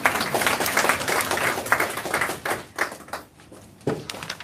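Applause from an audience at the opening ceremony of a community engagement workshop in Mali, dense hand-clapping that fades and thins toward the end with a few scattered claps.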